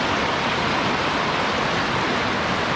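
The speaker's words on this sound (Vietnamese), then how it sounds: "Đoạn này nước chảy rất mạnh nhá. Nước chảy rất xiết." Fast, rushing stream water at Suối Đá Giăng, a dense, steady wash of noise close by with no let-up and no voices.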